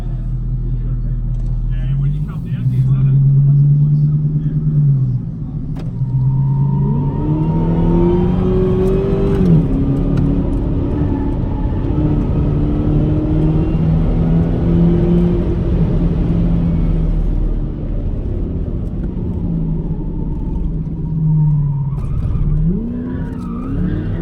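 A boosted car runs a hot lap at The Bend circuit, with the engine revving hard through rising and falling gear changes and tires squealing mid-lap, while someone speaks over the noise.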